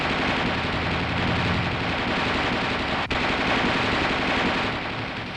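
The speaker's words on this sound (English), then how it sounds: "The gunner continues to fire in 20 to 25 round bursts" Coaxial machine gun on an M551 armored reconnaissance airborne assault vehicle firing in sustained bursts, loud, dense and continuous, with only a brief break partway through.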